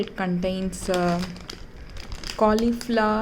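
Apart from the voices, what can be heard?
handling plastic bag of frozen mixed vegetables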